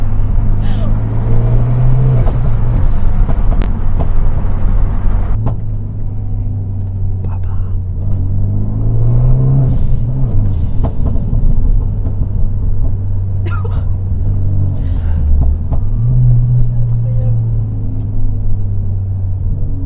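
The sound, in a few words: Renault Megane 3 RS engine during cornering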